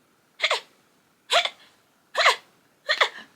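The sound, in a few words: imitated hiccups like a barking frog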